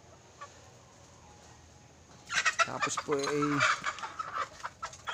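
Backyard chickens crowding in for feed cluck and squawk loudly at close range, a busy flurry of calls that starts partway through, with someone talking briefly.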